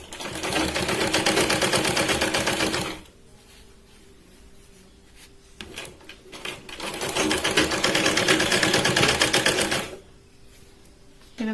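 Sewing machine stitching a katori blouse: two long, steady runs of rapid needle chatter, close and loud, separated by a quieter pause with faint handling sounds.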